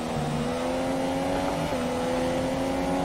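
Race car engine in the F1 2017 video game at Spa, a steady, moderately quiet drone with a sustained engine tone that shifts pitch slightly midway, continuous throughout with no talk.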